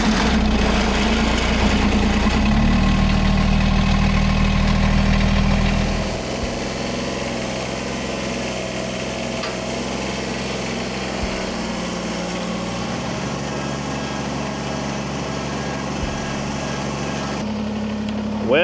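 A Kubota BX compact tractor engine runs loudly at first, then settles into a steady lower idle, a close continuous diesel chug with no talk.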